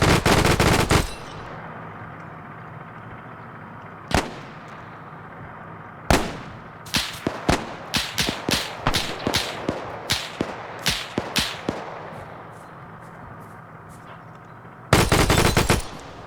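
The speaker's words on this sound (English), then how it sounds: "Now we're seeing some machine gun fire." Machine gun fire in a WW2 video game battle: loud, close bursts and a long stretch of rapid, evenly spaced shots, with a few isolated cracks between and dense roaring volleys at the start and end.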